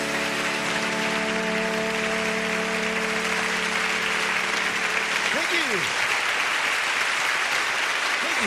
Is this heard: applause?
yes